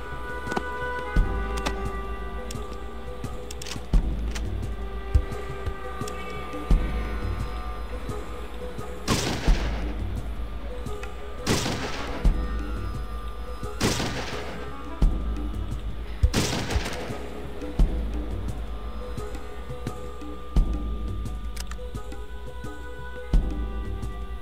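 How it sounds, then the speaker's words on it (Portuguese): Machine gun fire in the PC game Fallout crackles in repeated bursts and sharp shots, several loud cracks standing out over a steady rhythmic clatter and low rumble. "Metralhadora."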